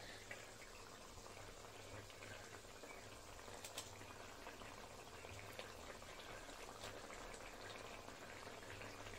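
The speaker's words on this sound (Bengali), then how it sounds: "ঝোলটা আমার ফুটে উঠেছে" Fish curry gravy bubbles at a steady boil in a pan, a soft, continuous simmering hiss and pop heard close and alone.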